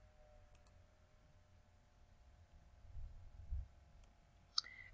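A computer mouse clicks while text is being formatted, with a quick double click early, then a few more separate sharp clicks, close and crisp over a quiet background hum.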